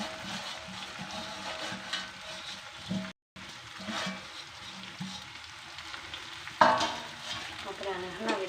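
Poha frying in a pan is stirred, giving steady soft sizzling with scraping stir strokes, a brief gap of silence, then a sharper clatter near the end.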